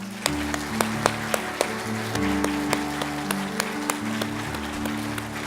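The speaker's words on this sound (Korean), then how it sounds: "우리 사랑하는 준서에게 우리 박수로 격려하겠습니다" A small congregation claps for a child at a blessing prayer. The claps are sparse and uneven over a steady tonal hum, with no voices.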